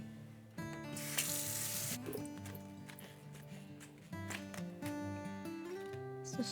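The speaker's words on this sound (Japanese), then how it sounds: "半玉使いたいと思うのでさっと洗っていきたいと思います" Running water from a kitchen tap spatters over half a head of cabbage being rinsed in a sink, a continuous close splashing with clinks and handling noises, under faint background music.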